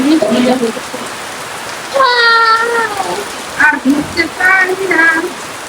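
Rain patters close by, falling onto a phone, with short bursts of nearby speech over the constant drumming.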